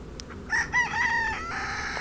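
A Cochin breed rooster crows once, close and loud, a drawn-out call lasting about a second over a faint background hiss, no talk.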